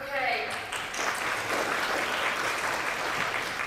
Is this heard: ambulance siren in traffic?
no